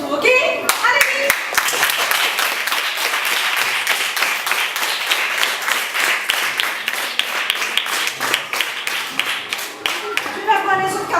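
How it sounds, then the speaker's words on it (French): A group of schoolchildren claps steadily and enthusiastically for several seconds at a school in Haiti, with voices calling out briefly at the start and end. "Moi, je vous applaudis à mon tour, ok?"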